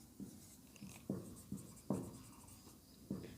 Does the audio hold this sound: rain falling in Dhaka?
no